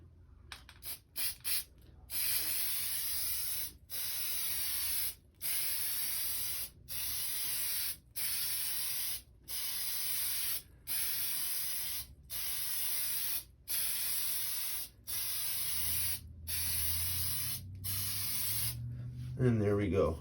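An aerosol can sprays a coat of Plasti Dip in a long run of steady hissing bursts, each a few seconds long, separated by short pauses, close and fairly loud.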